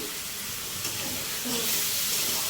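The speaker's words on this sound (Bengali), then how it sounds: "আমি এখানে আলু আর ভেন্ডিটা বসিয়ে দিয়েছি" Potatoes and okra cooking in a pan give off a soft, steady hiss and faint sizzle that swells a little toward the end, heard up close with no clear talking.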